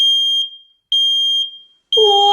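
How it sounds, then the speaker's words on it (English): A loud, piercing smoke alarm beeps in long repeated tones, about three in a row, each cut by a brief silence. "sets off smoke alarms"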